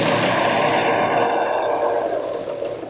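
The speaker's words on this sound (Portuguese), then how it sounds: "Posiciona o calcador do lado da cremalheira e vem." A sewing machine sews a common zipper, a loud continuous buzzing run of fast stitching close by with no talking.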